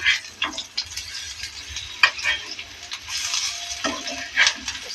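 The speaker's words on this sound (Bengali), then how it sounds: "এরকম লাল লাল করে ভাজা হবে বন্ধুরা, এরকম উল্টে পাল্টে ভেজে নেব।" Fish roe fritters fry in hot oil with a soft continuous sizzle while being turned over, marked by scattered scraping and tapping of a spatula, nearby and fairly quiet, with no speech.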